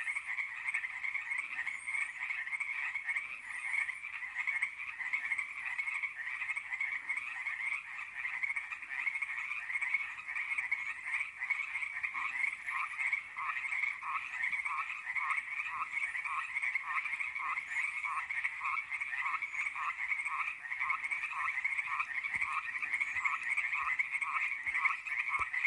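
Frogs croak at night by a lake, a dense steady chorus of rapid pulsing calls continuing without pause, moderately distant and even in level with no talking.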